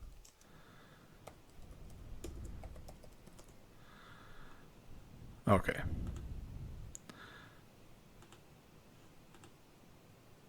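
Someone types on a new laptop's keyboard, producing scattered light clicks with a louder burst of taps in the middle, close and quiet, with a voice speaking briefly.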